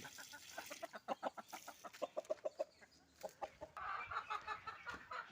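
Native chicken chicks clucking and peeping close by, rapid bursts of short rhythmic calls in quick runs with brief pauses, fairly faint and with no talk.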